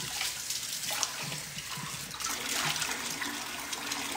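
Running water splashes steadily as a face is rinsed at a sink, with irregular slaps and trickles close to the mic and no talking.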